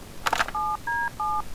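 Touch-tone telephone dialing in the video game Harveys neue Augen: a few quick beeping keypad tones in a row, clear and close, with no talk.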